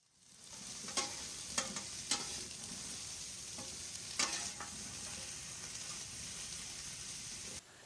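Wagyu beef tallow sizzling on a hibachi griddle while it is mixed, a steady hiss with several sharp scrape and tap accents from a spatula, fairly close and with no voices.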